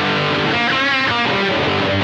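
An electric guitar played through a distorted, dirty tone, sustaining chord-like notes with rich harmonics for about two seconds, moderately loud with no talking.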